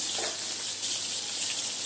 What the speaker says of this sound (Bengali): কড়াইয়ে তেল দিয়ে দিয়েছি, পেঁয়াজ মরিচটা দিয়ে দিলাম